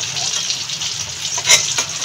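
Potatoes and eggplant fry in hot oil with a steady, close crackling sizzle. A brief louder burst of spattering comes partway through.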